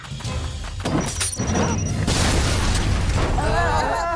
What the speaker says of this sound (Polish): Nasze autko wybuchło!